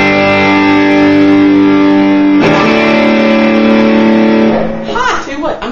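A 1967 Fender Deluxe Reverb amp, set up for a speaker shootout between a Reaper and an ET65, carries a loud distorted electric guitar with gain: long sustained chords, a fresh strummed chord midway, then a quicker picked phrase at the end.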